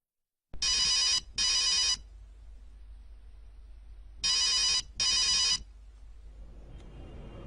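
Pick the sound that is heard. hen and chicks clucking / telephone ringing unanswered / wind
telephone ringing unanswered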